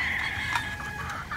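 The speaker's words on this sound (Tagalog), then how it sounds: "ang laking manok" Chickens on a pullet range make a brief clucking call against an open outdoor background, moderately close and with no talking.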